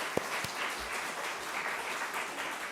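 A congregation at Iksan church Sunday worship gives applause, a couple of distinct claps up front followed by a soft, steady patter of many hands that stays fairly faint throughout.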